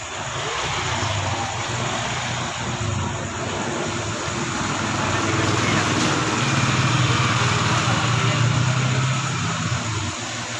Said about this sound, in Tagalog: gumana na yung motor natin